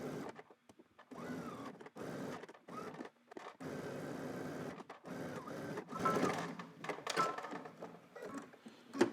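A sewing machine stitches around a pants waistband in short bursts of quick, rattling needle chatter separated by brief pauses, close and fairly quiet, with no talking.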